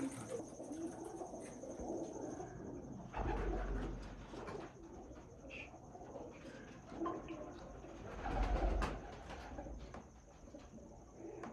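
Breeder pigeons give low, soft coos in a steady murmur among light rustling and ambient noise, with no voices.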